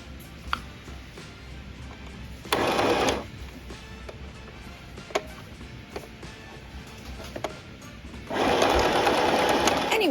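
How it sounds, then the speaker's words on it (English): Small sewing machine driven by a foot pedal, stitching in two loud bursts of rapid whirring, separated by quieter handling clicks and ticks nearby. "so let's do some sewing, and I am doing this the hard way with that foot pedal and the button"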